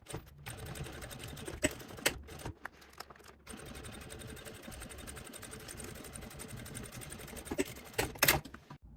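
A sewing machine stitches the sides of a light-up Halloween bag, running in a fast steady whir with a few short pauses and clicks near the start and a stop toward the end.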